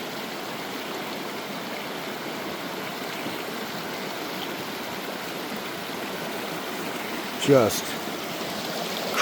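A small, crystal-clear mountain runoff stream in Arapaho National Forest, flowing in a constant close babble, with a brief thump near the end and a voice in the background.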